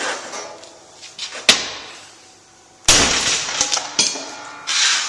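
A single sharp crack of a ceramic tile breaking under a hard hammer blow, followed by a louder impact and scattered clinking fragments.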